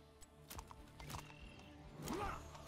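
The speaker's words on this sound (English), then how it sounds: "there's actually clippity clop sounds" Hoofed mount of the hero Yrel clip-clopping in the Heroes of the Storm video game, a quiet run of hoof clops mixed with faint game effects and a brief whinny-like tone, with no talk.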